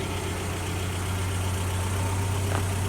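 A 1982 Toyota 4x4 truck engine idling just after starting, a steady, close low rumble with an even throb and no breaks.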